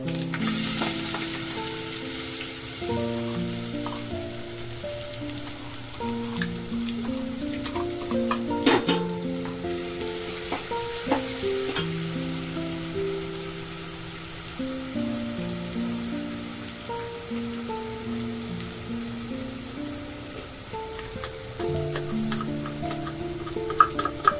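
Curry leaves and finely ground masala sizzle steadily in a pan of hot oil, a dense continuous frying hiss with faint stirring scrapes, close and alone without voices.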